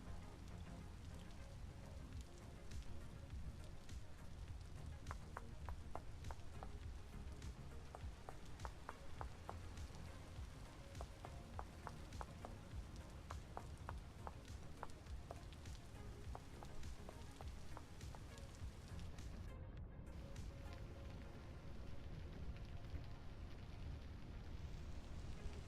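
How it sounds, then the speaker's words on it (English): Rain in the Vintage Story game falls as a steady, faint hiss of drops hitting the surface, continuous and evenly spread, with no voices over it. "Or was I just drowning out the rain sounds?"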